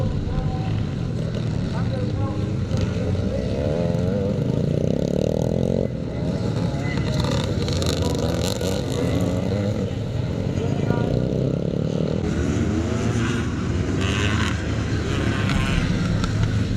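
Classic motocross motorcycles, including BSA and 380 CZ machines, race past at the Cumberland Grand National, a steady droning engine roar with rising and falling passes while a commentator talks over it throughout.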